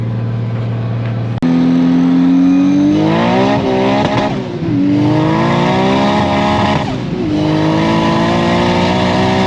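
A boosted race car makes hard pulls, lightly hazing its rear wheels: after a sharp start, the loud close engine revs climb through several runs with brief dips between them, with tire noise mixed under the roar.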